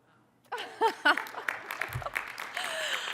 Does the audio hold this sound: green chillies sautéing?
no